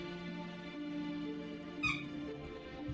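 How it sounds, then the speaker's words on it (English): A dog plays with a squeaky toy on a couch, giving one short, sharp squeak over a steady humming tonal background. "Running laps on the couch with her squeaky toy."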